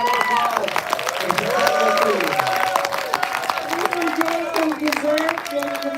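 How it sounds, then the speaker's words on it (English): An audience applauds at a live event, scattered clapping running under prominent talk and voices that carry through the whole stretch. "Guys, please, your biggest round of applause."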